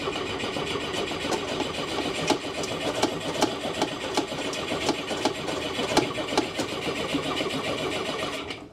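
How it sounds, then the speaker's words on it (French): Engine of a 1975 Pinzgauer being started without choke: a steady mechanical churn with regular sharp ticks and knocks, continuous and moderately loud from start to finish. "on va essayer de démarrer sans starter,"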